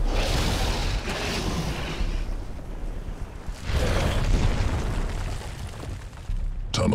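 In the StarCraft 2: Heart of the Swarm mission Planetfall, an Ashworm tunnels through the crust with deep rumbling bursts and eruptive booms that swell and fade in waves, loud and close, with no speech.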